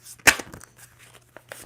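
Tarot cards being shuffled by hand: one sharp papery riffle burst, followed by a few soft crinkling taps and card slides, close and fairly quiet.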